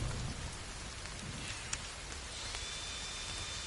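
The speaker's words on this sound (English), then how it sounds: "Why does it always rain when I wake up?" Steady, even rain patter in the video game The Forest fills the scene, soft and continuous, with a few faint distinct drops standing out.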